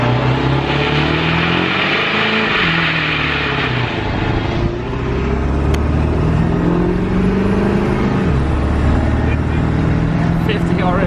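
A Ford 7.3 Powerstroke dually pickup with bigger twin turbos and an EGR delete accelerates hard, its diesel engine droning loud and steady close by while people talk over it.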